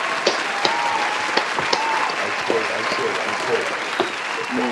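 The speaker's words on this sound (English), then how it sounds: "Round of applause." Studio audience applauds a guest actor being introduced on a talk show, a steady dense round of clapping with scattered sharper claps, close and fairly loud, with no voices over it.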